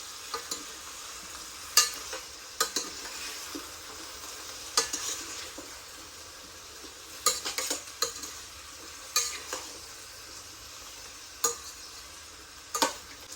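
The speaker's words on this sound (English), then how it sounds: "You want to let these vegetables cook and caramelize, but you want to stir them up enough that they don't burn." Sautéed winter vegetables sizzle steadily in a pan, with a spoon or spatula scraping and stirring at irregular moments over the frying hiss, close and without voices.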